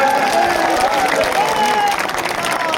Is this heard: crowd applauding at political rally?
yes